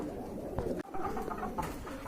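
Large Bombay pigeons coo softly and repeatedly up close, with light rustling in the background.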